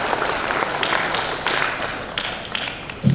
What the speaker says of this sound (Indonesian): Tepuk tangan untuk Mas Sari.